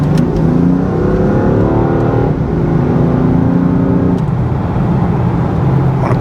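A BMW F82 M4 on a new set of wheels accelerates hard, its engine rising in pitch through the gears with brief pauses for shifts, loud and close from inside the car, no speech.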